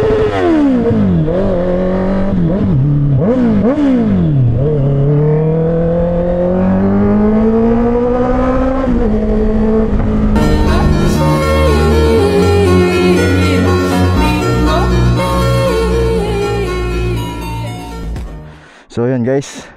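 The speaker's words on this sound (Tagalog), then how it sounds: "So may test drive tayo ngayong motor ng utol ko, Honda CBR 650R." Honda CBR650R sport motorcycle on a test ride, its inline-four engine revving up and down through rising and falling pitch sweeps, then holding a steady loud drone with wind rush before cutting out near the end; a voice speaks over it.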